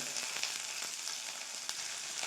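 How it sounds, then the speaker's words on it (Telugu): Steady, close sizzling of onions frying in hot oil, a continuous crackle with small pops throughout and no voices. "అవి ఇలా ఫ్రై చేసుకోవాలి, పచ్చి వాసన పోయే వరకు."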